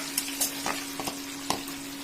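Food frying in a kadai, turned now and then with a spatula: a steady low sizzle with a handful of sharp scraping clacks spread unevenly across the stretch, heard fairly close with nobody speaking.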